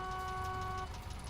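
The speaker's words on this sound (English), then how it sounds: "And I can honk the police horn." Police car horn in the video game Phasmophobia, a single steady honk lasting just under a second, fairly faint over low rumbling background.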